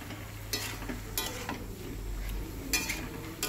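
Eggplant stirred into a hot spiced mixture in a pan, with a low steady sizzle and a few scraping strokes of a spoon against the metal, no voices.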